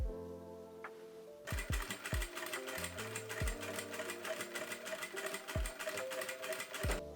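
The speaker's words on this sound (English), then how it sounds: "I've joined the bias tape into a loop, and now I'm gonna baste it and sew it on." A sewing machine stitches bias tape onto the armholes of a cami top after a quiet start, with a rapid mechanical chatter and several low thumps between runs.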